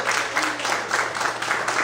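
A church congregation applauds during a sermon, giving a brief burst of clapping in pulsing waves with a low steady hum underneath and no voices.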